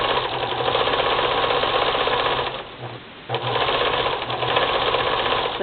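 Continuous rapid whirring and clatter of a sewing machine stitching braid onto a thick, stretchy towel, close and loud, stopping briefly partway through before running steadily again.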